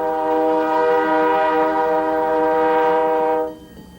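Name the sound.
passenger train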